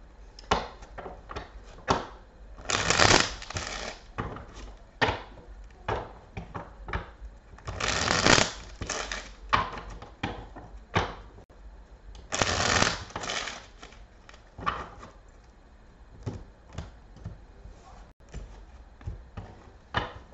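Repeated bursts of tarot cards being shuffled, crisp riffling flurries with short pauses and lighter taps between them, close and clear with no talking.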